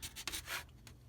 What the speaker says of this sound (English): we're sanding down the perimeter of the window frame